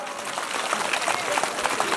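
A crowd claps steadily to welcome the Raja onto the stage at a village fair, moderately distant applause with voices mixed in.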